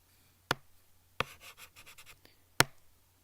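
Pen strokes on paper during a chemistry lesson, a few sharp separate scratches with short scribbling runs between them, close and fairly quiet, with no talking.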